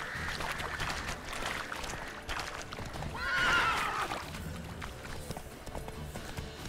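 A horse whinnies loudly in The Witcher 3 video game, over a steady background of game sounds and hoofbeats as it runs through a bog, with a harmonic neigh standing out briefly.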